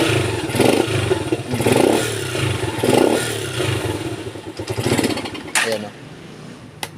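A motorcycle with a throttle that stalls when twisted starts up and runs close by, a loud rough rattling idle pulsing with throttle blips and fading near the end, while someone speaks over it.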